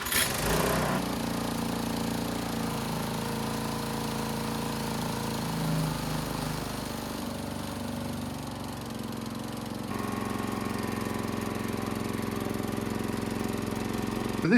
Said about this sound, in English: Now the easy pull, it hasn't been quite that easy, but I'm hoping it will start this time.